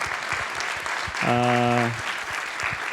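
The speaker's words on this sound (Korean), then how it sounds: "여러분 뜨거운 박수 부탁드리겠습니다" Enthusiastic applause from a forum audience at a digital economy policy event with a presidential candidate, a dense burst of clapping that swells and fades over a couple of seconds, with a brief sustained tone ringing through the middle.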